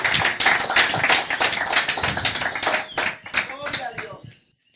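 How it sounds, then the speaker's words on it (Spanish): A church congregation claps loudly in praise during a Spanish-language service, the sharp claps dense and uneven before thinning out and stopping abruptly near the end. "Denle un aplauso, pero bien fuerte al Señor."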